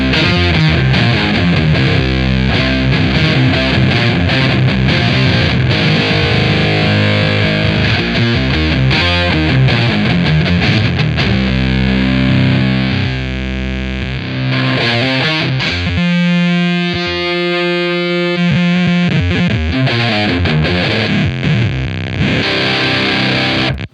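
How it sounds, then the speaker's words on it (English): A Beetronics Zzombee Filtremulator effects pedal processes a guitar signal with a tremolo whose wave blends from smooth sine toward stark square, giving a loud, distorted, continuously sounding tone that turns choppy and pulsing near the end. "the wingspan control in this mode blends the signal from a sine wave, which is very smooth, to a square wave, which is very stark"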